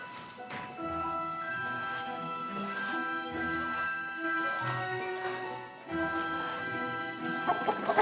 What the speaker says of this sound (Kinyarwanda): Oh mbega inkoko nayo siri mu mupango.